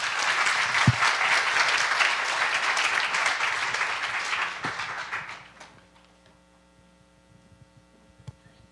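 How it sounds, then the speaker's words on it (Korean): At a Friday church service, the congregation gives hearty applause to welcome Pastor Lim Dong-su, a missionary to Paraguay. The clapping is full and sustained for about five seconds, then drops away and leaves a faint electrical hum. "나오실 때 힘찬 박수로 모시겠습니다"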